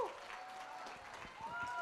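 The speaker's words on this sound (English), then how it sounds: "Can I get a round of applause" An audience applauds at the opening ceremony of a STEM festival, a dense, fairly close wash of clapping that stays steady throughout while a voice carries on above it.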